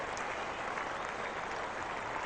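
Spectators at Old Trafford keep up continuous applause for Jacques Kallis reaching his Test century, an even, unbroken roar of many hands clapping with no pauses.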